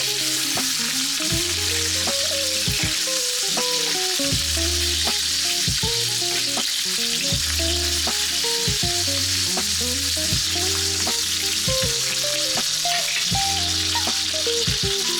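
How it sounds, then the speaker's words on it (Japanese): Sea bream sizzling in a hot pan while the bone side is basted with fat, a steady close frying hiss running continuously beneath background music. "今度はこの骨面の方をアロゼしていきます"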